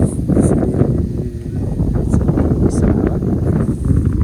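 Wind blowing steadily by a river, a continuous low rushing roar buffeting the microphone, loud and close, with faint rustling over it.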